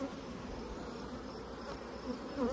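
Honey bees buzz steadily inside a sample jar during a field mite-resistance test, a close, continuous drone with slight shifts in pitch and no voices.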